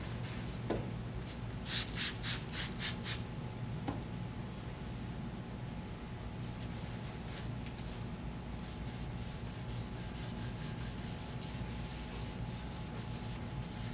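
Steady abrasive rubbing of sandpaper against camphor wood end grain, continuous and close, with a short burst of quicker rhythmic strokes early on and a low background hum.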